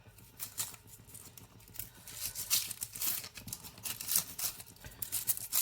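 A sharp knife slicing through an onion on a board, a close, crisp crunch and crackle of layers splitting, with irregular soft cutting taps throughout.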